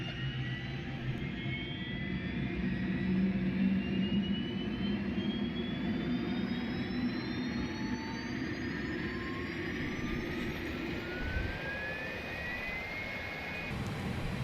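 An aircraft auxiliary power unit whines as it spools up, its pitch rising steadily over a loud, continuous roar heard from nearby outdoors.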